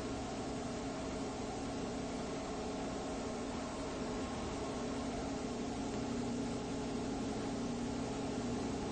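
A Papp engine runs steadily on a dynamometer at around 716 RPM, producing a continuous, even mechanical hum with no change in pitch or level throughout and no voices.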